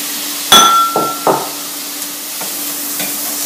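Cooked garbanzo beans are stirred in a pan with a utensil, giving a few sharp clinks and scrapes against the metal over a steady low hum, with quieter scraping taps afterward.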